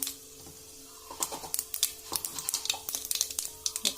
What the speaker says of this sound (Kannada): ಇವಾಗ ಎಣ್ಣೆ ಕಾಲಿದೆ ಸ್ವಲ್ಪ ಸಾಸಿವೆ ಹಾಕ್ತಾ ಇದ್ದೀನಿ